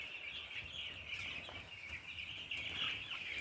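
Meat chickens in a barn holding about 225 birds, a constant overlapping chorus of soft clucking and cheeping from many birds at once, steady and moderately faint with occasional louder calls.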